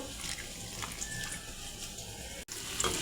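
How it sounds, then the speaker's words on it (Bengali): Water is poured from a tap onto ground chili, turmeric, coriander and red chili powder, with a steady close rush and splash that runs on without pause. "একটু জল দিয়ে মশলাটা গুলিয়ে নেব।"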